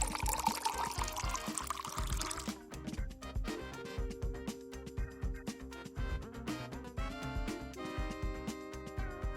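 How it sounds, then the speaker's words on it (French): Water and then vinegar are poured from a cup into a bottle, a gurgling stream that rises in pitch as the bottle fills, steady for several seconds. "Verse une tasse et demie d'eau dans la première bouteille. Et la même quantité de vinaigre."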